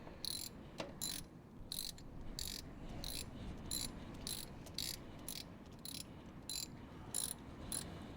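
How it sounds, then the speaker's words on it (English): A hand wrench ratcheting to snug up a fitting on a garage engine job, a quick series of sharp metallic clicks in evenly spaced bursts over a low steady background hum. "Just snug it up with the wrench."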